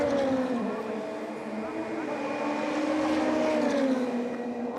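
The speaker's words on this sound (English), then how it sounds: "As the cars go screaming by then" DTM race cars roar past during qualifying at Assen, a sustained whining engine drone with shifting pitch under commentary, fairly loud and continuous rather than a single distinct pass.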